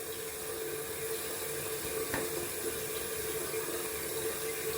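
Tap water runs steadily from a faucet into a sink during a wet shave with a Semogue boar brush and Gillette NewClip razor, a continuous close splashing stream with one brief knock partway through.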